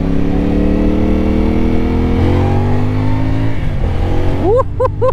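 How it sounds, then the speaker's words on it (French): Engine of a 2024 CFMOTO 450CL-C motorcycle, heard close and loud as it pulls steadily through a gear, then gives a few quick, sharp throttle blips near the end. "Oh là là, j'adore ce moteur."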